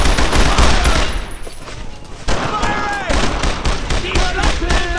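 Dense gunfire from a World War II battle in Brothers in Arms: Road to Hill 30, loud and continuous, with rifle and machine-gun bursts overlapping and heavier booms mixed in.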